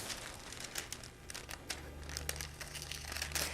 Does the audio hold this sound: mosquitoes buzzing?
no